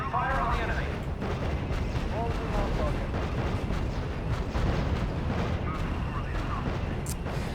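Tank gunfire in the World War II strategy game R.U.S.E., dense booming cannon blasts and rumbling battle noise filling the whole stretch, loud and continuous, with voices talking over it.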